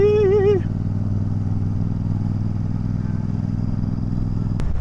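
A Royal Enfield Super Meteor 650 motorcycle on a morning ride in Bali gives a steady, close engine drone mixed with wind rush throughout, with a brief tonal beep at the start.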